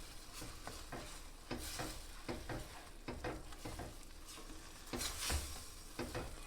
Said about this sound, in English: And we're gonna stir this well.